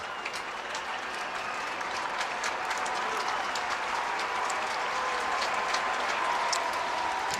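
A large baseball game crowd applauds steadily, sustained clapping and cheering from a distance with no pause.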